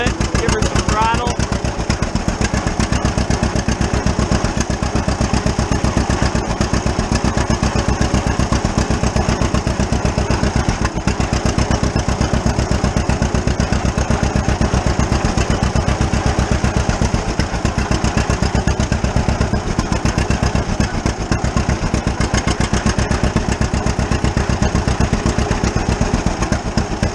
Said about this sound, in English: We'll increase the RPMs a little bit, give her some throttle.